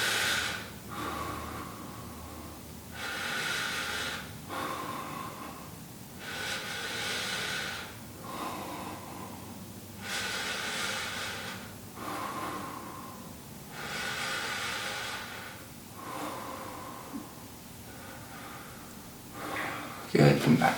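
Slow, deep breathing from a person seated and stretching, a series of long, even breaths in and out, close by and clear, repeating about every two and a half seconds with quiet pauses between.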